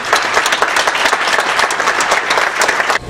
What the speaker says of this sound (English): Let's give them one big hand